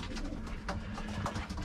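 Racing pigeons cooing softly in a loft while feeding young birds, low murmuring coos repeating close by over faint background rustle.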